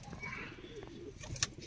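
Pigeons at a hobbyist's loft give soft, low cooing close by, with a brief brighter call near the end and faint background rustle.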